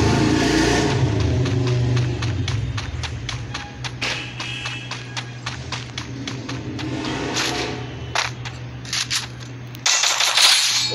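Gunfire in Garena Free Fire during a ranked match comes as rapid bursts of sharp, repeated shots over a loud, continuous game backdrop, ending in a louder final flurry with no talk.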